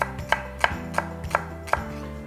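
A knife slices garlic on a cutting board for fried rice, giving six evenly spaced, crisp chops at a steady, moderate pace with no talking.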